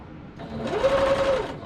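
A sewing machine stitches quilt pieces together at a quarter-inch seam, a steady close whir that starts up, runs loud and even for over a second, then slows at the end.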